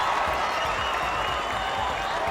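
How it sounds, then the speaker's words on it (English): Baseball fans in the stands applaud and cheer, a continuous broad wash of clapping and crowd noise, fairly loud and steady throughout. "And the fans are going wild. They are cheering extra loud."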